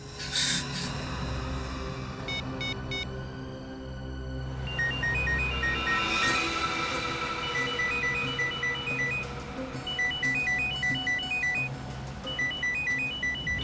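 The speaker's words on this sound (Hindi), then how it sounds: "उनकी घंटी सुनाई दे रही है ना?" Electronic ringtone beeps repeat in short patterned bursts through most of the clip, over a steady background hum, with no voices.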